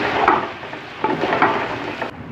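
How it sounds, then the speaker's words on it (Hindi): Khoya being stirred into a large commercial batch of carrot halwa in a pot, giving a steady close scraping, mushy stirring texture with soft thick sizzle and a few sharper knocks against the pot. "इसके ऊपर मैं ये अपना खोया इसके अंदर करने लगा मिक्स"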